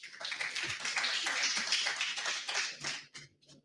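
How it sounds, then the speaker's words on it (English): Audience applause at the GUBA Diaspora Conversation 2026 event, a steady wash of many hands clapping at moderate distance for about three seconds before tapering off into a few scattered claps. "Can we do one more round of applause"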